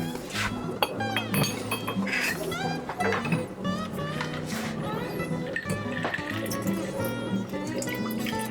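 Ice cubes clink and knock against a cocktail glass in a busy bar-like setting, sharp repeated glassy taps over a murmur of voices, background music and liquid sounds.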